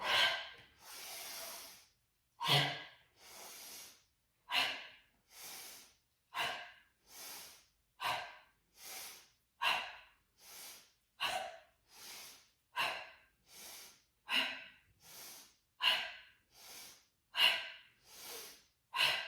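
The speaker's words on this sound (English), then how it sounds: "So inhale and exhale." Deep, slow breathing during a yoga sequence: about seventeen steady inhales and exhales in an even rhythm, close and clear with no talk over them.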